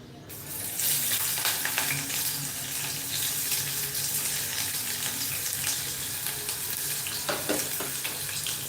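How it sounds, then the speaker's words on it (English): Red onion drops into a hot pan and breaks into a loud, steady hiss of frying that carries on evenly, with occasional scraping stirs close by. "So let's start by adding our red onions"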